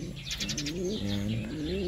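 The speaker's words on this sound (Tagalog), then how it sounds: "Ito yung mga ibon natin." Racing pigeons coo close by in soft, throaty warbling calls, several overlapping over a short stretch.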